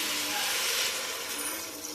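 Water pours into a pot of chicken curry, a steady close rushing splash that tapers slightly toward the end, no talking.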